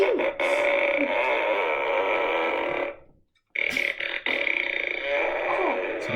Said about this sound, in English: It makes 10 fart sounds, and it lights up as well.